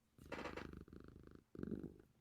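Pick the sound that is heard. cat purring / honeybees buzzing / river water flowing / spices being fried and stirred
cat purring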